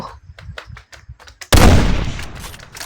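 A single loud sniper rifle shot from a gun addon in Minecraft cracks and decays into a long echoing tail, preceded by a rapid burst of quieter clicky game sounds.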